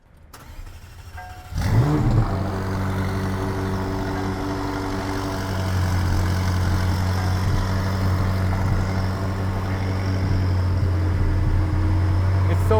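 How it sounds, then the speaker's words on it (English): A McLaren 570S V8 fires up after a brief quiet lead-in, catching with a sharp crank and bark before settling into a loud, steady, rumbling idle that holds to the end. "start it up actually first and give you a taste of this V8 sound"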